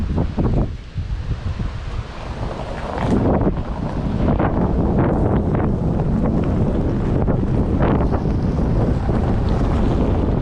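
Strong headwind buffets the microphone as a Tesla Model Y tows a camper on the highway, a loud constant roar and rumble with gusty swells throughout.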